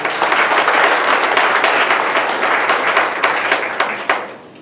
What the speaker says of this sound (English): So, you can all give yourselves a round of applause.